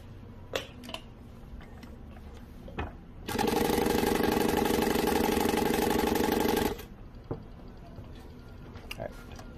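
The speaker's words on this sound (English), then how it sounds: "I'm going to pull the bobbin thread up and I'll sew a line." An industrial sewing machine stitches one line in a single loud burst of fast, buzzing stitching that lasts about three and a half seconds, with quiet handling sounds before and after.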